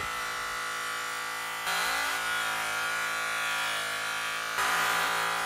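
A buffing machine polishes a battered Harley exhaust header with a steady high whine that steps louder twice as the part is pressed harder against the wheel, continuous, close and without speech.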